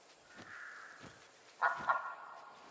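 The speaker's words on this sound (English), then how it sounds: "Confused duck." A duck in the video game Lost Ember gives faint soft calls, then two louder harsh, raspy squawks close together, with no talk over them.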